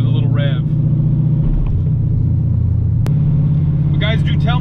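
A C7 Corvette Z06's engine rumbles steadily and loudly, a deep continuous drone that swells slightly, with someone talking briefly over it at the start and near the end.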